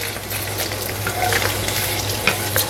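Onion, green chili, cinnamon and cloves frying in hot oil for a simple chicken curry: a dense, close crackling sizzle with light stirring clinks.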